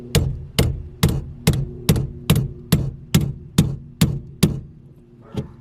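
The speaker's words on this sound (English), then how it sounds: "I'm gonna hammer that in right now." A hammer strikes a part into place on a drift-spec Nissan Skyline, with about a dozen loud, evenly spaced metallic blows ending in a lighter final tap, close and alone.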